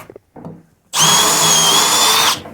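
A power drill boring through wood into metal during a homemade garage door build, one loud sustained whine of about a second and a half after a few faint handling knocks, close and alone.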